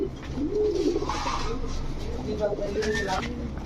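Mehendi Chila pigeons, a male and female pair of high-flyer stock from Lalbagh, coo steadily and close by in a pigeon seller's market, with someone talking over them throughout.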